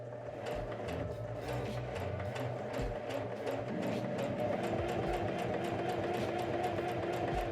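A sewing machine joins Victorian corset panels, its needle chattering in a fast, even, continuous rhythm over a low motor hum, close and steady throughout.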